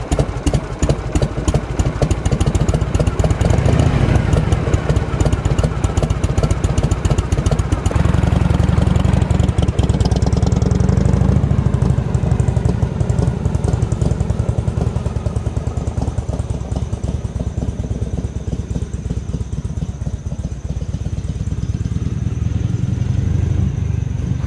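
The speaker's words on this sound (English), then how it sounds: "just let y'all enjoy the sounds of a 55-year-old Shovelhead that's happy to be back in the wind" A 1970 Harley-Davidson FLH Shovelhead motorcycle, 55 years old and just revived, runs steadily with a loud, lumpy V-twin throb that holds close and continuous throughout, its pitch shifting slightly partway through.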